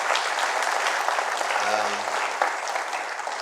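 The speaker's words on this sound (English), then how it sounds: "I think you all deserve a round of applause" Sustained applause from an audience at the Central Bank of Nigeria's eNaira launch, dense clapping throughout with a brief faint tonal sound in the middle.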